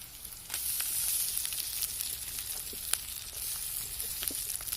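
Bay leaves and chopped tomato hit hot oil with a sudden sharp hiss that settles into a steady, close sizzle, dotted with small pops and crackles.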